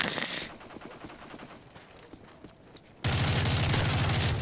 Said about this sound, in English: Oh, I hear gunshots behind me.